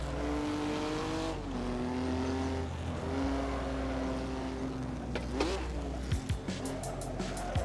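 Race car in the Assetto Corsa racing game, its engine revving high then dropping through downshifts with throttle blips, a steady loud drone with short tire chirps near the end.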